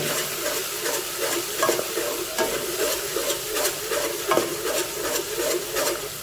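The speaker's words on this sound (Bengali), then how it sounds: "এইভাবে কন্টিনিউয়াসলি আমি ভুনে নেব" Spice paste with sugar stir-fried in a pan for doi chicken, a steady sizzle with rhythmic scraping strokes of the spatula repeating throughout, close and fairly loud with no voices.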